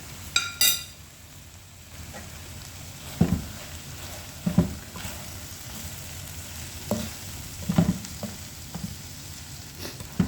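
Vegetables with mustard seeds and curry leaves frying in a pan, a constant sizzle broken by several distinct scraping stirs of a spatula against the pan at uneven intervals, with no talking.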